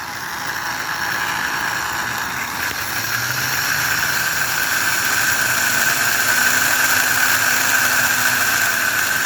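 A small model train motor runs at 3 volts with its shell on, giving a steady, close whine with a high squealing tone and a hissing mechanical drone that holds constant throughout, with no speech.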